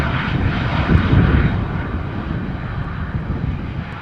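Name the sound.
Lufthansa CRJ jet landing in crosswind at Amsterdam Schiphol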